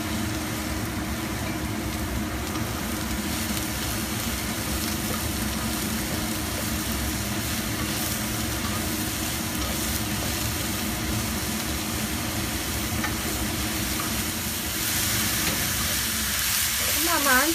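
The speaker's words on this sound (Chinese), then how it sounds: "炒香咗之后咧，就加啲鸡髀菇落去炒啦" Chicken thigh mushrooms stir-fry in a wok with ginger and scallion for a vegetarian home-style dish, giving a continuous, moderate sizzle and hiss that runs steadily, growing slightly busier near the end.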